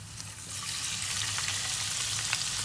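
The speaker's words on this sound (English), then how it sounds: "we're just going to add the gambas right now, or the prawns, shrimp" Prawns slid into hot garlic-infused olive oil for Spanish gambas al ajillo, a steady bright sizzle and spatter filling the pan, close and continuous with a few faint pops.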